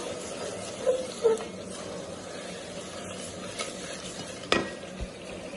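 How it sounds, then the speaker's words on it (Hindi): Spice masala with salt, red chilli, turmeric and roasted cumin roasts in a pan for a turnip sabzi, giving a soft, steady sizzle with occasional scraping stirs and light clinks of a spoon. "मसाला बहुत अच्छे से भून रहा है, ये देखिए"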